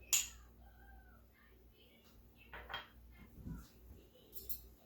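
Pectin and erythritol powdered sugar are mixed in a bowl, heard as a few quiet clinks and soft scrapes of a utensil against the dish, sparse and close in a quiet kitchen.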